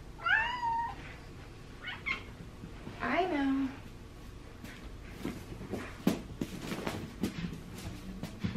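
A pet cat meows repeatedly during playtime indoors, several loud rising and falling meows near the start, then quieter scuffling and rustling of play, close by with a person speaking briefly.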